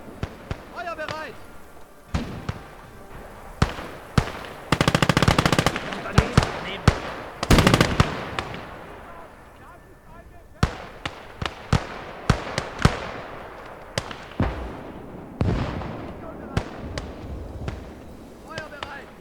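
Enemy machine-gun fire in the WWII strategy game Call to Arms: Gates of Hell, heard as sharp repeated bursts and single cracks scattered through the battle, some loud and close, with game voices calling out over the shooting.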